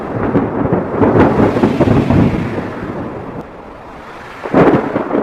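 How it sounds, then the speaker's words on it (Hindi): Heavy rain pours steadily while thunder rumbles and cracks loudly nearby, with a fresh burst of thunder near the end. "उनके लिए यह पहली बारिश थी जो उन्हें किसी अजूबे से कम नहीं लग रही थी।"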